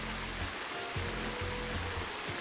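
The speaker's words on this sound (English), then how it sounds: "There's a fucking waterfall. That's making a lot of noise." A waterfall in Sonic Adventure DX roars as a steady, hissing wash of falling water, constant and fairly loud, with low rumbling thumps pulsing underneath.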